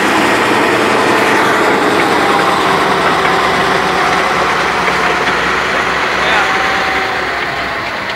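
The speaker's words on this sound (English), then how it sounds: "55 miles an hour radial engine built by Buick." A Buick-built radial engine in an M18 tank runs at a WWII reenactment show, a loud, steady, dense rumble that drones on without pause and eases slightly toward the end.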